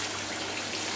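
Steady rushing water flows back into the return sump of a Green Leaf Farms aquaponics system after circulating through underground pipes, a continuous close, even wash with no pauses.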